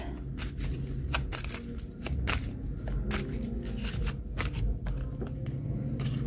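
A deck of oracle cards shuffled steadily for several seconds, with repeated riffling flutters and soft slaps close up, no voice over it.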